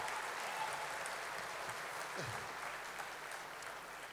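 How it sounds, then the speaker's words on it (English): A crowd applauds at a sports awards ceremony for a guest of honour, a sustained wash of many hands clapping, moderately loud and even, with faint murmurs and a short electronic sweep mixed in. "Please, a warm round of applause for Mr. Carl Lewis."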